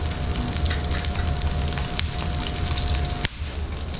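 Garlic sizzles in hot cooking oil, a loud, dense, close crackle that runs steadily throughout with a brief sharp clink near the end; nobody talks.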